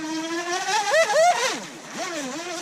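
An FT009 brushless RC boat motor whines across the water, a high-pitched buzzing that rises and falls in pitch as the throttle changes and the boat passes, fairly close and steady over a few seconds.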